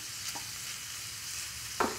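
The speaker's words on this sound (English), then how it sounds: "the garlic is cooking, everything smells delicious" Garlic fries in a pan with a steady, close sizzle, and a couple of faint scraping stirs break through the constant frying hiss.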